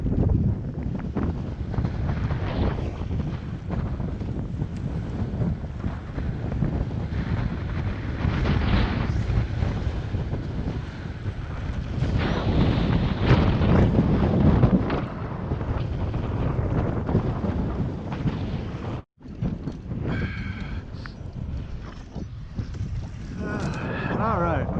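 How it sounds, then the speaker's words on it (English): Strong wind buffets the microphone in a constant roar throughout, with a brief dropout near the end. "Ah, this wind is brutal."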